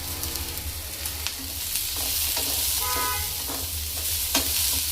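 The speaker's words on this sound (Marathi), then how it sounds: "आता हे थोडंसं लाल होईपर्यंत भाजायचं" Ginger, garlic and tomato sizzle and roast in a hot pan while a utensil stirs and scrapes intermittently; a faint horn-like tone sounds briefly in the background.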